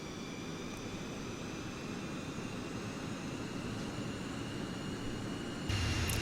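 Steady broadband roar of simulated airliner jet engines spooling for takeoff in a flight simulator on an Alaska to Northern California route, even and constant, swelling slightly louder near the end, with no voices.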